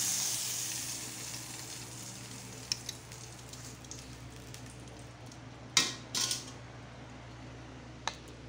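Pork longganisa fries over a very low flame, giving a soft, steady sizzle and hiss that runs the whole time, broken by a few sharp clinks of a utensil against the pan.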